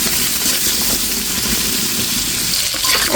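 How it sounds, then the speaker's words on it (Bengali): Potatoes frying in hot oil until reddish-brown, in the same pan as shol fish, make a steady, dense sizzle that holds an even level throughout, with no voices. "এই তেলের ভিতরেই আলুটা খুব সুন্দর করে লাল লাল করে ভেজে নেব।"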